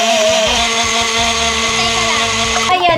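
Teami blender whirring steadily as it blends a collagen and greens breakfast smoothie, a loud continuous motor whine with a change in pitch near the end.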